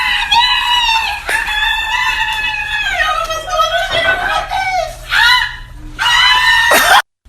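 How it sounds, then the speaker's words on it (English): A man screams loudly in a series of high, strained wails and shrieks, some rising and breaking, with brief gaps between bursts and no talk. "These screams that you are about to hear are all from men."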